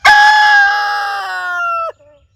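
A five-year-old friendly rooster from Murray McMurray lets out a single loud, close crow that holds steady before dropping off sharply at the end, with no other sound around it.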